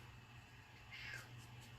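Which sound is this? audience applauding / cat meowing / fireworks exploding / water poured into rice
cat meowing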